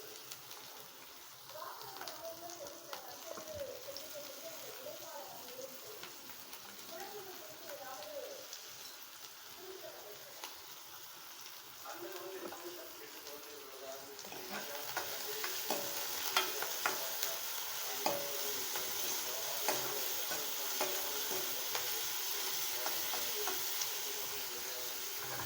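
Chopped onion and two dried red chillies frying in a pan for a spinach kootu, with a soft continuous sizzle and occasional stirring that grows louder and brighter partway through, with no talking.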